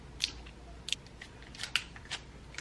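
Scissors snip tape in a handful of sharp, close, crisp cuts spaced irregularly over quiet room tone.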